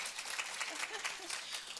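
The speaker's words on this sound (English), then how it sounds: "can we give them a round of applause?" An audience at a talk on downsizing and decluttering gives its event ambassadors a short, fairly faint burst of applause. The clapping sounds steady and a little distant, and a few voices murmur faintly beneath it.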